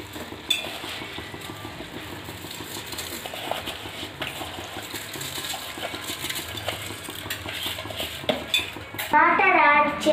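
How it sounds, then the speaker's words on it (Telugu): Chilli powder and coriander powder are mixed into chicken biryani ingredients with a metal spoon in a pot, giving continuous close scraping and clinking stirs that grow louder near the end. "ఇప్పుడు మిరప్పొడి వేస్తున్నాము, ధనియాల పొడి వేస్తున్నాము. అంతా మిక్స్ చేసుకోవాలా."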